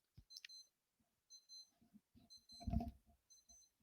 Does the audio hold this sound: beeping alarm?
yes